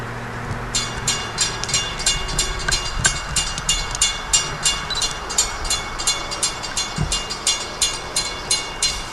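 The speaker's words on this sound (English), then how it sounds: "8058 is now coming up the hill." A Long Island Rail Road commuter train rolls steadily closer up a hill, its wheels clicking over rail joints in a regular clickety-clack rhythm, with a low rumble underneath.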